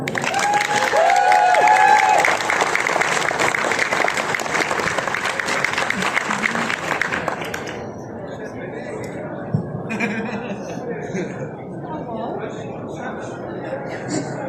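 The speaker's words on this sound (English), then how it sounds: "can we put a round of applause for her?" An audience claps loudly with some cheering at a Klingon-language talk, the applause fading after several seconds into quieter room murmur and a voice speaking.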